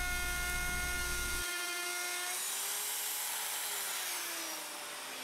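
Power tool cutting finger holds into an end grain cutting board, a loud steady whine with a low rumble that drops away early while the high tone keeps running to the end.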